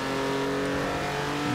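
A BMW i8 Roadster 2018 drives in Forza Horizon 4, its engine holding a steady, close, tonal drone for the whole moment, with no voices over it.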